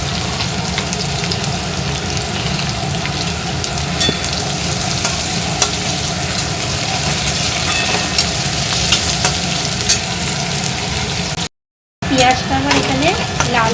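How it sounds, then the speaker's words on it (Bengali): Chopped onions with cardamom frying in hot oil in a home kitchen, a steady loud sizzle with stirring scrapes throughout and a brief cut near the end. "পেঁয়াজ কুচিগুলো ভেজে নেব পেঁয়াজগুলো যখন লাল লাল করে ভাজা হয়ে যাবে"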